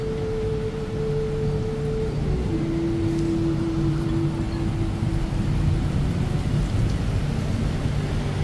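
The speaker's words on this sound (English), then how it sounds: "thunder and lightning that was on display." Heavy rain pours steadily during a Bangkok thunderstorm, a dense continuous wash with low rumbling underneath and a faint steady hum, no voices.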